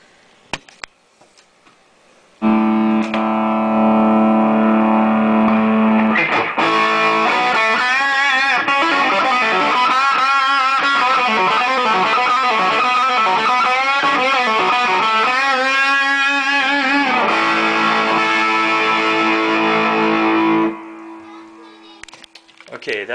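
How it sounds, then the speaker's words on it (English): A heavily distorted electric guitar through a 2008 Peavey Bandit 112 amp's distortion channel, gain at 7, plays loud sustained chords and riffs for about eighteen seconds, starting abruptly after a quiet moment and cutting off near the end. "that is the classic setting on the distortion channel right here"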